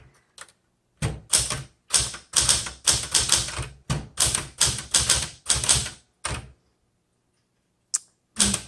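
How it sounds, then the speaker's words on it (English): A 1970s Smith Corona Galaxie 12 manual typewriter being typed on, loud close bursts of rapid key strikes separated by short pauses, then a couple of isolated clacks after a gap. "let's do some typing"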